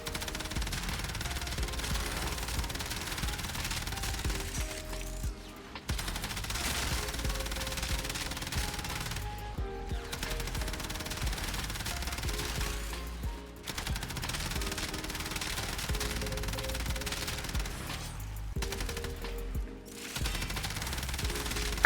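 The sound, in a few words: weapon gunfire in the video game Warframe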